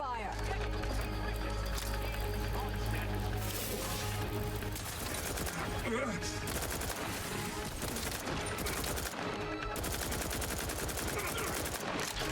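Sustained gunfire in The Outer Worlds 2 rattles in dense volleys with scattered sharp shots, loud and close, while voices speak over the battle.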